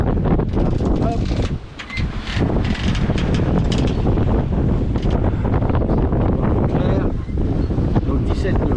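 Wind gusts roar across the microphone aboard a sailboat off the island of Elba, a loud, continuous buffeting rush with faint water and hull noise beneath, briefly easing before surging again.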